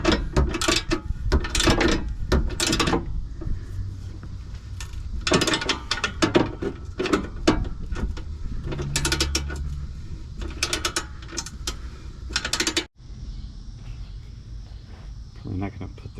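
A socket wrench ratchets on a Mustang GT exhaust, producing repeated rapid clicking bursts in irregular runs, close and moderately loud, with mechanical clatter between them and a quieter stretch near the end.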